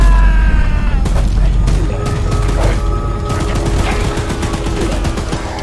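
Rapid gunfire from a gun in the horror game Choo Choo Charles, dense repeated loud shots with booming impacts rattling continuously for several seconds, close and heavy.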